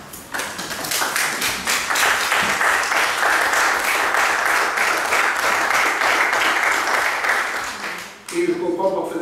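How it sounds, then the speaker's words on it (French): Sustained applause fills a municipal council meeting, a dense patter of many hands clapping at steady volume for several seconds before fading, then a voice starts speaking. "Et je comprends parfaitement que vous applaudissiez pas mal."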